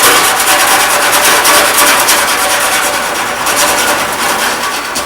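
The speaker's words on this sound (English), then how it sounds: "Once you've got the end of your wire filed down" The end of a metal wire is filed by hand with a rapid, rhythmic rasping scrape, loud and close, continuing steadily without talk.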